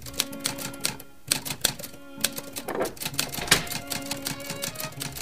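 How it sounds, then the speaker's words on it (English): A typewriter clatters close by in a quick, uneven run of sharp key strikes, with a brief pause partway through, in an old-fashioned office scene in a radio drama. "I have finished typing up those notes on the Lockwood property"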